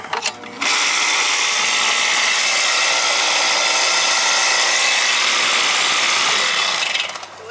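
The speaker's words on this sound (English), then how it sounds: "That's the compressor!" A Carrier air conditioner compressor and condenser unit labors with a loud, harsh, broadband rushing buzz that starts abruptly, holds steady for several seconds, then cuts off.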